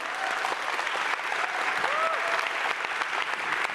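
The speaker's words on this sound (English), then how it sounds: "please give a big round of applause for our panel" Dense, steady applause from a large audience fills the room for a panel at a talk on feminist investigative journalism, sustained and even throughout with no voices over it.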